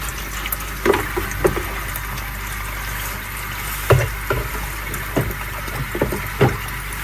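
Water runs out of a koi pond filter's cleaning pipe in a steady, moderately loud wash, with a few soft splashes and knocks over about seven seconds.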